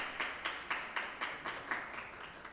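Applause from an audience at a formal conference panel, a steady run of fairly faint, evenly pulsing claps heard alone.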